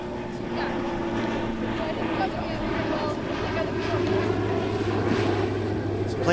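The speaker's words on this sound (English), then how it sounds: "Some planes coming in for landing here." Propeller airplanes descending toward Kingston Airport pass overhead during an outdoor mixed sports game, a steady engine drone holding throughout and swelling slightly toward the end, with people talking over it.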